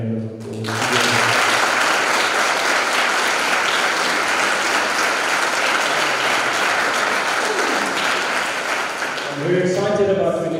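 Sustained audience applause fills a school leadership assembly hall, loud and continuous for about nine seconds before tapering, with a voice beginning to speak as the clapping fades at the end.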